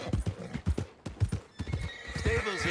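A horse in Red Dead Redemption 2 neighs loudly while its hooves clop in a quick rhythm close by, with a voice talking over the sounds.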